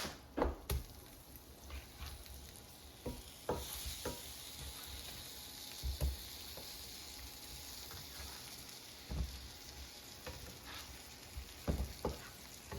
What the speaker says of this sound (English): the green tomatoes have been cooking now for 5 minutes, and I'm going to flip them over